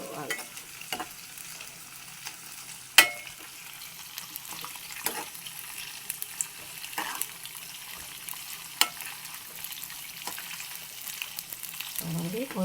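Guta punugulu fritters sizzle steadily in hot oil in a pan, a close continuous crackling hiss broken by sharp taps and scrapes of a spoon or ladle, with no talking.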